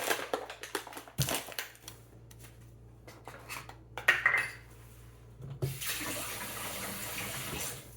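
Lukewarm water from a tap fills a container for bread baking, a soft running splash that starts late and holds steady, after assorted clinks and kitchen handling sounds.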